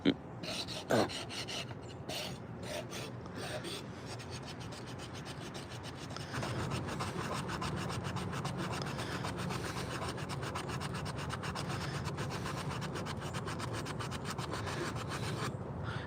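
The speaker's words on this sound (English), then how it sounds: "little spoons, scoops like this, they're kind of hard to burnish, so it's going to be mostly sandpaper" Sandpaper rubbing over a small hand-carved wooden spoon, a close, steady rasping scratch that picks up into continuous fast strokes after a few short passes, with no talking.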